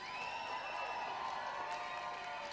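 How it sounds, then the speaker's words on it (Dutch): Applause and light cheering from a live audience at a Dutch stage performance, a steady dense wash of clapping held at moderate volume, fairly distant, with faint voices mixed in. "Hey, ja, applaus."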